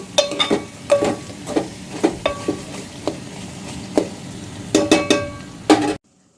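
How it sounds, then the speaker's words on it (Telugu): Onions and meat for boti curry cooking in oil in a pan, with a low sizzle under repeated sharp scrapes and clinks of a spoon stirring against the pan, arriving in irregular bursts before cutting off abruptly. "ఉల్లిపాయ ఇవి ఆయిల్లో మంచిగా మగ్గాలండి"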